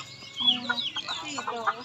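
Chickens cluck in short, irregular bursts at close range on a rural farmyard, with soft voices murmuring underneath.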